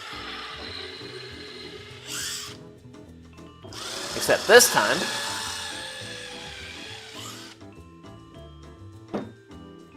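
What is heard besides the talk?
power drill pre-drilling screw holes in a wooden sign board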